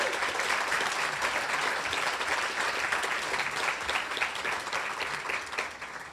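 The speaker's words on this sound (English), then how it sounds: "If you could please give them a round of applause." A room full of people applauding sponsors at a young professionals' awards show, sustained, even clapping held at a moderate level throughout without pause.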